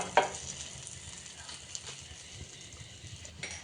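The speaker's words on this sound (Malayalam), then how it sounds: "പാൻ ചൂടായി കുറച്ച് ബട്ടർ ഇട്ട് കൊടുത്തിട്ടുണ്ട് കേട്ടോ" Butter sizzles in a heated pan with a soft, steady crackle, fairly quiet and close, with a sharp tap at the start and no talking.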